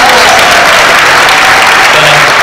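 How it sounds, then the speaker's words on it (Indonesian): A crowd claps steadily in dense, loud applause that holds at an even level for a couple of seconds. "Tepuk tangan dong"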